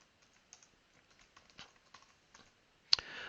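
Quiet keystrokes on a computer keyboard while a password is entered, a sparse, irregular run of soft clicks, ending in one sharper tap followed by a brief rustle.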